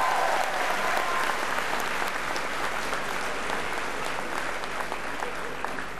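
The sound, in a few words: loud applause from the audience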